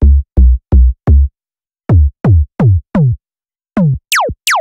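Synth notes with a pitch envelope on the first oscillator play as short, punchy plucks, each sweeping sharply downward in pitch, in a repeating rhythmic pattern of about a dozen hits ending with two higher, brighter zaps, with no talking.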